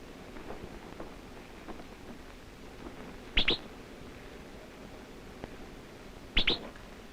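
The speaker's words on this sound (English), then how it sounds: "Even the smoke doesn't convince the kingbirds to abandon their territory." Kingbirds harassing an eagle near a wildfire give two short, sharp high chirping calls a few seconds apart, faint over a quiet background of wind and low rumble.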